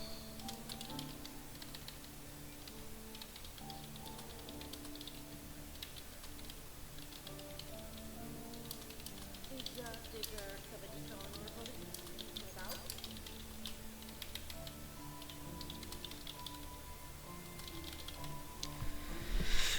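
Keyboard typing clicks away at a computer, faint and continuous under a steady bed of game sound and music, with scattered ticks throughout.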